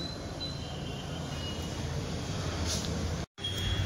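Steady rumbling of a train rolling through Shrirampur railway station, a continuous low roar with rattling wheels and a brief cut near the end.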